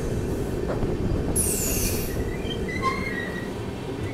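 A train rolls slowly through Raika Bagh Palace station without stopping, a steady rumble of wheels on rail with a loud high-pitched wheel squeal partway through and fainter squeaks afterward.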